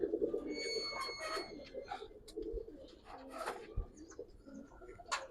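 Male Giriraj pigeons at a pigeon farm coo repeatedly in close, throaty rolling calls, with other birds chirping faintly in the background.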